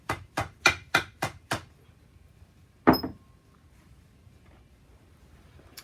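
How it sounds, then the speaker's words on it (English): Six sharp hammer taps on a tightened rope honda knot in quick succession, then a pause and one more solid knock, each ringing briefly in a quiet space. "give it a little tap with a hammer."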